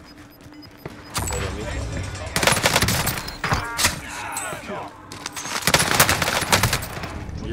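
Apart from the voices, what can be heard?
gunfire in video game Call of Duty Rebirth Island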